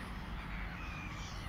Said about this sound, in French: Est-ce qu'ils se font la guerre ces oiseaux là?